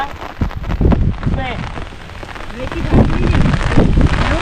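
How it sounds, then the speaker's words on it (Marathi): Monsoon rain pattering on surfaces in a Konkan paddy field during rice transplanting, a dense steady wash that grows louder toward the end, with voices talking over it. "हे बघा पाऊस येऊ लागलेला"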